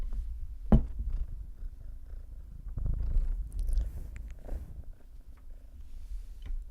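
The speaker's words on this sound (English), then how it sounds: "Can you hear it purring?" A low, steady purr rumbles close up, soft and continuous, with a few faint rustles and a sharp tap near the start.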